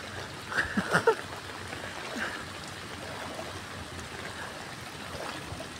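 Floodwater runs through a flooded street in front of a hospital in Manila. It is a faint, steady trickling flow with a few soft splashes near the start.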